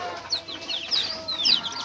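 Chicks peep in a rapid cluster of high chirps close by, with hens clucking softly underneath, among chickens at a rural home in the province.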